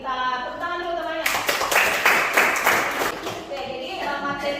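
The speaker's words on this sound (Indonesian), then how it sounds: "Tepuk tangan dulu temannya." Schoolchildren in a classroom break into a burst of rapid group clapping that lasts a few seconds, framed by talking before and after.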